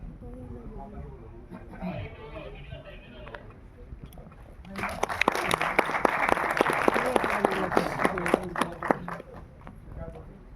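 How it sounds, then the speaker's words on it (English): An audience at a film gala premiere bursts into loud, sustained applause that swells about halfway through, with cheering mixed in. Talk is heard before the clapping starts. "Come on, keep the claps coming"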